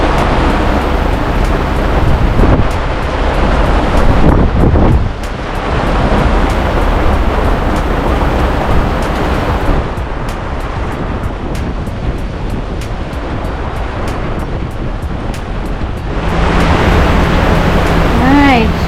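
Wind and waves rushing around a sailboat under way near Union Island, a loud, continuous roar of gusts and surf with heavy wind buffeting on the microphone.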